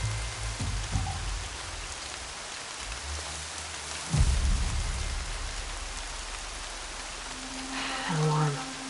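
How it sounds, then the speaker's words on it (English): Rainfall in Horizon Zero Dawn, a constant hiss of rain with a few low thuds and brief tonal game sounds layered on top near the end. "Rain's not so bad."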